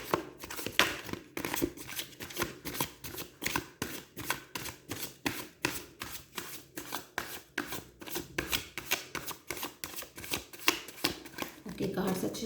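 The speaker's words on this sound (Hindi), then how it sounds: "ओके, कार्ड्स अच्छे से शफल हो चुके हैं।" A deck of tarot cards is shuffled over and over in a quick, even rhythm. Sharp, close riffling bursts repeat steadily for the whole stretch.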